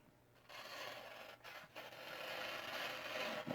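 A Japanese Mcusta Tactility folding knife with an ironwood handle slices through newspaper, giving a few quiet, close rasping rubs with short pauses between strokes.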